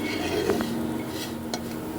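Jackfruit seeds stir-fried in a pan with a halved green chilli, giving a low steady sizzle under occasional soft clinks and scrapes of a utensil against the pan, close and moderately quiet with no talking.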